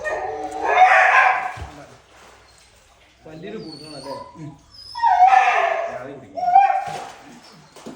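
A dog whimpers and yips in high, strained bursts just after being rescued from a well, mixed in with people talking nearby.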